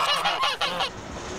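A pet goose in Sitka, Alaska gives a quick series of about four or five loud, close, nasal honks, then falls quiet.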